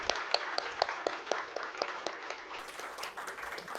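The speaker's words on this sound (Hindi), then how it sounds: "जोरदार तालियों से अभिनंदन और स्वागत।" Scattered, rhythmic claps from a gathering at a Delhi government event welcoming school students back from Paris. The claps are fairly close, moderately loud and steady throughout, with no talk over them.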